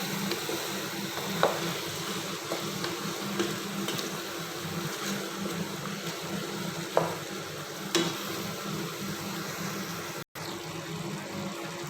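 Pepper is stirred into a frying Filipino dish in a pan, with a steady soft sizzle and scraping stir strokes, a few sharper clinks of the utensil against the pan, and no talking.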